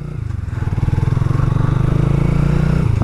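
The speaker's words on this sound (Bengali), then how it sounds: "এক্সস্টের সাউন্ডটাও সেই লাগতেছে।" A modified Honda Hornet motorcycle runs with a loud, close, rapidly pulsing exhaust note while riding, holding a steady throbbing rhythm for a few seconds.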